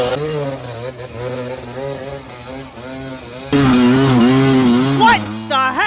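Off-road race motorcycle engine sputtering and gurgling at a race start, a buzzing, uneven idle that swells louder partway through, with someone talking over it.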